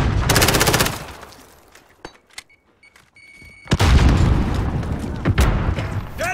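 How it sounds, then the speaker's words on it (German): Call of Duty Modern Warfare multiplayer: a loud burst of rapid gunfire, a quieter lull with scattered sharp shots, then a heavy grenade blast and another stretch of gunfire. "Werfe Granate."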